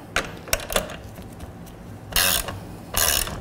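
Adjustable collets on a Can-Am Spyder are loosened with a ratchet wrench: a few close clicks early, then two bursts of rapid ratcheting, loud and near, with no talk.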